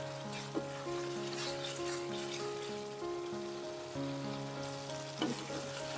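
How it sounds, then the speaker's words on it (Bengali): Country chicken going into frying spice paste with garam masala, meat masala and salt, a steady close sizzle with a couple of clanks, under a constant tonal hum and no talk. "মশলাটাকে ভালো করে কষিয়ে নিয়ে ব্যাস মাংসটা দিয়ে দেবো।"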